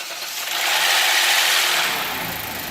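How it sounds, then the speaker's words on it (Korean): A Hyundai Grandeur IG 3.0 engine roars loudly on a cold start, swelling to a peak and then easing off to a steadier, quieter hum. "냉간 시에 시동을 딱 걸었을 때 굉음이 나는 차들이 있어요"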